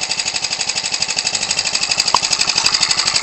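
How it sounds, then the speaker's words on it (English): A Ryobi 29cc four-stroke engine converted for R/C aircraft use, with a cut-down flywheel and a prop adapter, runs steadily up close, its rapid even firing pulses forming a loud continuous buzzing drone. "Choke it and hand starts real easy."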